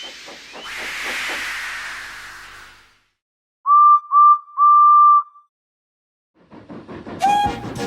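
A steam engine hisses loudly as it lets off steam, a long rushing blast with puffing pulses. After a pause come three whistle toots, one of them long, then more puffs and hiss.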